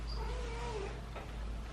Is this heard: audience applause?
no